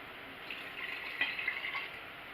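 Half a cup of hot water pours in a steady, soft splashing stream that runs briefly on its own and stays fairly quiet throughout.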